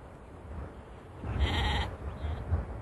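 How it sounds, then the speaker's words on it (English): A flock of sheep bred for a special purpose gives a single clear bleat amid a low background murmur of the herd, moderately near and not very loud. "This flock of sheep will not end up as lamb chops."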